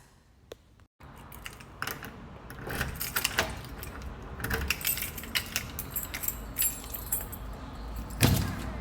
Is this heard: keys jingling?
yes